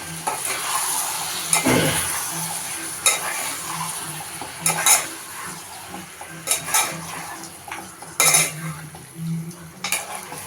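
Chicken curry cooks in a pan with a soft, steady sizzle and bubble, broken by repeated scrapes and clinks of a spoon stirring against the metal.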